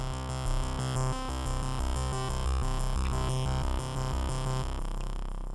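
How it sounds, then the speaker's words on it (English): A GarageBand analog bass synth set to a lo-fi pad transform plays a steady, loud pulsing bass pattern with sustained harmonic layers, running continuously without any voices. "I could go to lo-fi and see how that changes the sound."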